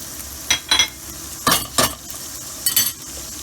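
Pepper paste fries in a pan while being stirred, with short bursts of sizzling scrape and clink recurring in pairs, close and fairly loud.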